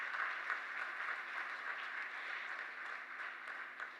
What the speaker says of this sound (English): I invite you all to join me in expressing our appreciation with a loud round of applause once again for CA Chetan Dalal